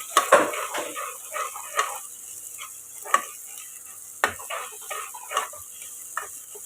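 Ginger garlic paste sizzles and sautés in a hot pan while a spoon scrapes and stirs, giving several sharp clinks against the metal over a steady frying hiss.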